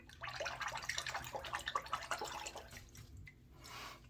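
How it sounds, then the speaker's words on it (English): Blackland Era safety razor being rinsed under running water, giving faint, close splashing and trickling bursts that ebb and return over a few seconds, quiet and without talk. "Rinsing out very nicely."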